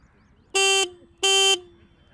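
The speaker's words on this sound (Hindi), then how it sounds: "इसका एक बार हॉर्न देख लिया जाए।" Two short, steady electric horn blasts from a Royal Enfield Hunter 350 motorcycle, each about a third of a second, sounding close and clear over quiet background.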